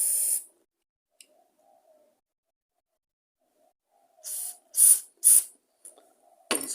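Aerosol carburettor cleaner sprayed through a small jet during a lawn mower carburettor clean-out: several short hissing bursts in a row near the end, preceded by an isolated quick puff and quiet handling.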